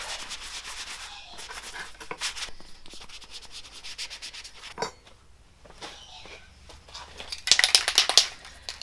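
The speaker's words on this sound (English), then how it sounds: "Just going to use a sanding block to just rough this up." A sanding block scrubs back and forth over a surface in short, uneven rasping strokes, close and fairly quiet, with a louder burst of scratchy rubbing near the end.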